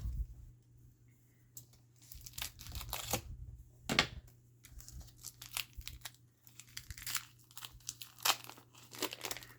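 Scissors cutting open tough plastic packaging on a block of Fimo polymer clay, giving a series of close, crisp crinkles, snips and tearing rustles in irregular bursts, with quiet pauses between.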